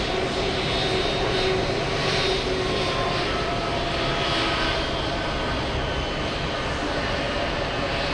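A JetBlue jet airliner at JFK airport produces a broad, continuous engine roar that stays loud and steady throughout, with no pauses or voices.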